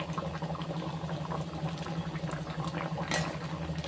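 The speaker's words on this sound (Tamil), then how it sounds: "குழம்பு இந்த அளவு கொதிச்சுக்கிட்டு இருக்குது." Tamarind gravy (kuzhambu) bubbling steadily in a pot on the stove, a continuous close patter of small pops and bursts over a low hum, with no talking.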